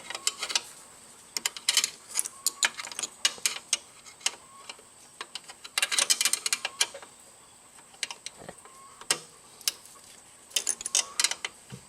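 An open-end wrench works loose a handlebar bolt on a Harley-Davidson Road King motorcycle, making irregular bursts of sharp metallic ticks and ratcheting clicks, close and fairly quiet, with clusters of quick clacks between brief pauses and no talking.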